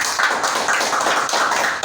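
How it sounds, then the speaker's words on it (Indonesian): An audience at a cryptocurrency trading seminar breaks into applause, a dense, steady patter of many hands clapping at close range, holding level for the whole stretch with no talk. "Tepuk tangan dulu dong"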